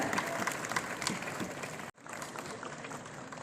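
Dense applause from a crowd at a World Tuberculosis Day event fills the clip, cut off abruptly for an instant near the middle before the clapping resumes just as strongly.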